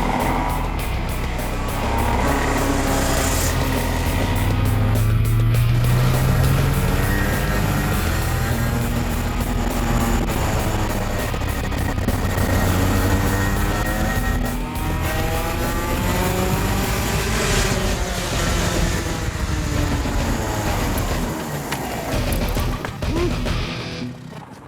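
Racing kart engine driving on a track in Macau, a loud continuous buzzing drone with rising and falling revs as it speeds along, close and dominant throughout.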